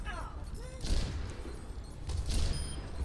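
Enemy turret firing in Overwatch, two bursts of rapid, muffled thumping shots close by, each swelling and fading, with game sounds around and a voice speaking.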